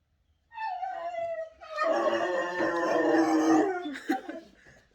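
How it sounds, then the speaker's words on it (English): A dog squeals and howls close up, starting with a rising whine and then a long, loud, strained howl lasting several seconds before tapering off, with no talking. "the dog's about to squeal"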